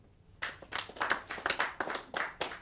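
Sparse audience applause from a few people voting no on a debate question, scattered individual claps in an uneven rhythm, fairly faint and thin compared with a full crowd.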